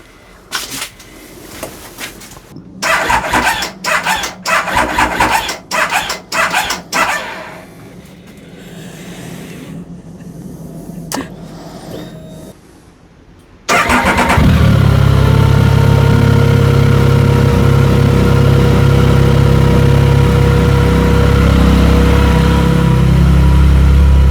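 Triumph Speed Triple motorcycle sits in a workshop for an oil and filter change while clanks and handling knocks come first. Then its engine fires up abruptly and settles into a loud, steady close idle that runs to the end.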